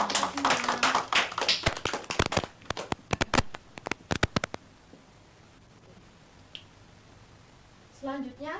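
Students in a classroom clap their hands in sharp, irregular bursts for a few seconds, loud and close, then the room falls quiet with faint rustling before a voice speaks briefly at the end.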